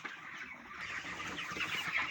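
Ross 308 broiler chickens on a farm in Kenya cluck in short, overlapping calls, moderately close and rising slightly in activity, with no talking.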